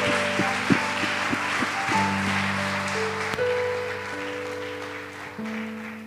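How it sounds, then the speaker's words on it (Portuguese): A church congregation applauds during a Baptist worship service, with steady, dense clapping that fills the room and continues throughout. Sustained keyboard or organ chords play underneath and shift pitch every second or so. "E com uma linda salva de palmas nós te agradecemos."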